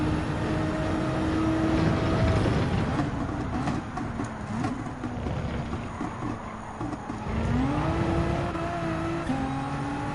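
Race car engine in Gran Turismo 7 at the Red Bull Ring, droning steadily with harmonic tones that rise and fall through gear changes, revving up again near the end; loud and continuous with no talk.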